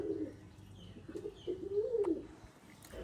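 Racing homer pigeons on a farm give soft, close, throaty coos in a few rolling phrases, one drawn out longer near the middle, over quiet surroundings without talk.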